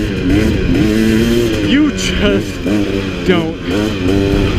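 A 2017 KTM 300 XC two-stroke dirt bike rides a trail, its engine revving and bogging in rising and falling waves, loud and close, with someone talking briefly over it.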